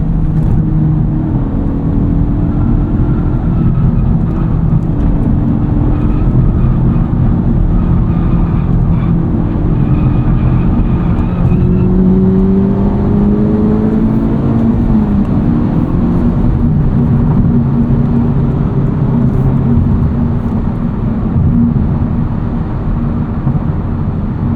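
A 2023 Honda Civic Type R with its front resonator deleted drives on fresh pavement, its exhaust a steady close drone that rises in pitch as the car accelerates, with wind and road noise beneath.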